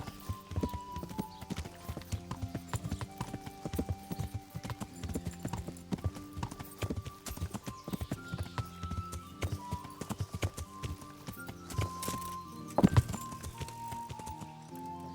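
Horse hooves clip-clop steadily in the medieval video game Kingdom Come Deliverance, a close, rhythmic run of hoofbeats with a brief neigh, over a faint ambient music bed.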